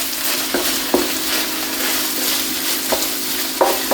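Ground beef with peppers and onions frying in a pan, a loud constant sizzle broken by several scraping knocks of a utensil stirring, close and alone.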